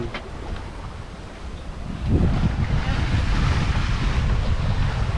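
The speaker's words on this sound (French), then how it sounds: "on a un petit 12 nœuds de vent" Steady wind of about 12 knots buffets the microphone over rushing water while sailing at sea, swelling louder halfway through, with faint voices in the background.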